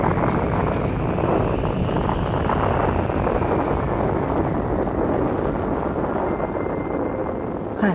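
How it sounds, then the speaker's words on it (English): A spacecraft engine roaring through liftoff from Dao Vallis on Mars during a dust storm: a loud, steady, broadband rumble that holds without a break from start to finish. "We have liftoff from Dao Vallis."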